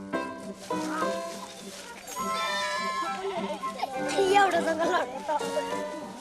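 A baby goat bleats in wavering, harmonic cries in a remote Nepali mountain village, mixed with children's voices nearby, the calls rising loudest toward the end.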